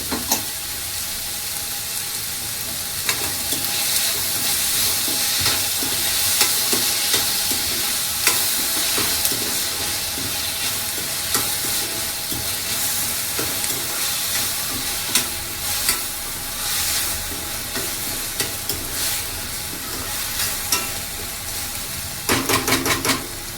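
Onion and tomato with salt frying in a pan for a village-style dried shrimp and brinjal curry, giving a steady, close, continuous sizzle with occasional stirring scrapes and no talk.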